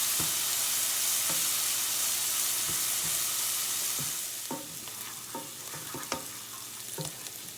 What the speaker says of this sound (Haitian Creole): je vais mettre épices là bien frit